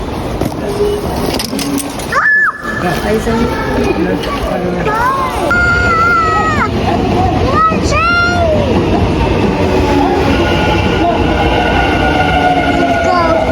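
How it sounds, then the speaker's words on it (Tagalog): A train in Japan rolls along the tracks with a steady loud rumble and rattle, brief squeals and tones cutting through, while voices chatter nearby. "Sakay na kami ng train."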